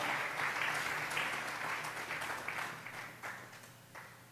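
A church congregation claps together in sustained applause, a dense even roar of many hands that slowly fades, fairly distant and soft.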